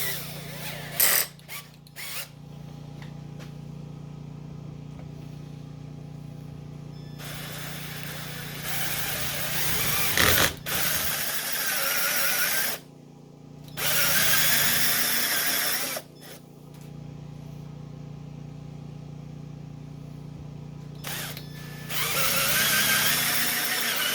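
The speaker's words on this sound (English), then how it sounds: "I'm going to hook up a drill and let's go for it" A power drill runs in bursts, each several seconds long with short stops between, under a steady background hum. The drill is being used on plastic parts while building a Nissan Altima to make it road ready.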